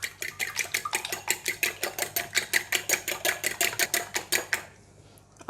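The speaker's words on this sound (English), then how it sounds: "now we're going to beat the eggs" Eggs beaten briskly in a bowl, ahead of a cabbage and carrot stir fry: a fast, even run of close clicking whisk strokes that stops near the end, with no talking.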